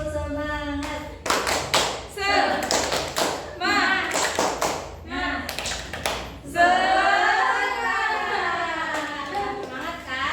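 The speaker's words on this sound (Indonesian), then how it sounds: "Tepuk semangat." A class of children claps out the rhythmic "tepuk semangat" chant in a classroom, with bursts of sharp, patterned hand claps and loud, shouted voices chanting together in time.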